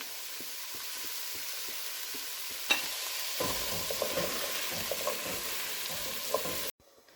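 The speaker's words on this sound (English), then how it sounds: "we will saute these until they are almost cooked through" Vegetables for a chicken stew with bacon sauté in oil with a continuous sizzle, while a utensil knocks and scrapes against the pan now and then before the sound cuts off abruptly near the end.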